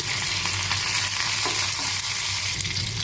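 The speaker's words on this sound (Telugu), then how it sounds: "పప్పుని తాలింపు పెట్టుకున్నామండి. తాలింపు సరుకులు వేసుకుని" Tempering spices fry in hot oil for dal pulusu, giving a loud, dense, steady sizzle with constant crackle that fills the whole three seconds without any talking.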